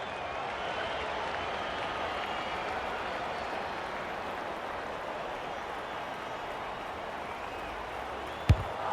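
Steady stadium crowd roar from an AFL 26 football video game, a dense continuous wash of cheering and applause held at even loudness throughout, with a single sharp thump near the end.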